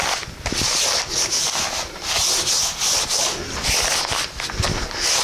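Hands rubbing and smoothing material stapled down while building a tuna cooler fish bag, a steady close scraping rub with soft shuffling bursts throughout.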